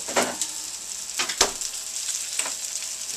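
Butter sizzles in a hot pan for frying venison steaks, with a continuous frying hiss broken by a few sharp spatters and utensil clicks close by.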